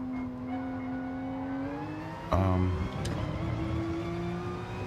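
A Porsche 911 RSR race car with Roland 808 livery in GT Sport at Laguna Seca, its engine note climbing through gears with a sharp shift around the middle, then rising again, under faint background.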